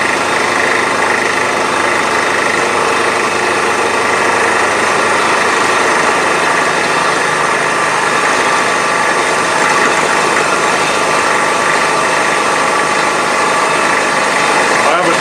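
A milling cutter machining metal blocks for Dixson tool holders runs in a loud, steady grinding drone with constant machine hum throughout, a voice occasionally heard over it.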